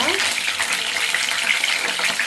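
Stuffed brinjals cooking in a pan for gutti vankaya curry give a steady close sizzle and frying hiss throughout, with no talking.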